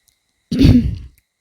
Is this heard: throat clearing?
yes